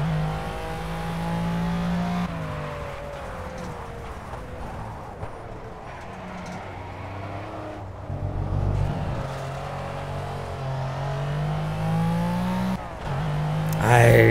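A race car engine in Project Cars, revving and accelerating loudly through repeated gear shifts with rising and falling pitch, with some faint game sounds and a voice briefly present.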